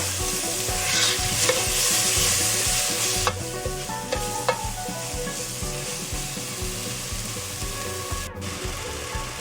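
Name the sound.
stirring spices frying in a pan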